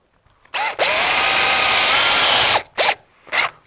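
A power drill drives a screw into a garage door track to fix a Snirt Stopper bottom seal, in one sustained loud whir of about two seconds followed by two short bursts as the screw is snugged.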